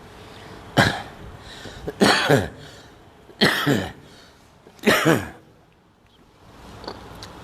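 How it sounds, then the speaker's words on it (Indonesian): Four harsh, chesty coughs come in separate bursts a second or so apart, close and loud, followed by a faint final rasp. "Udah batuk, udah kayak aki-aki ya."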